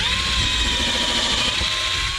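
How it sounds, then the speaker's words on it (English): A power drill bores a pilot hole through the bottom of a 2x4 for a sawhorse, a steady close whine of the motor mixed with grinding wood for a couple of seconds without a break. "Let's drill through the bottom."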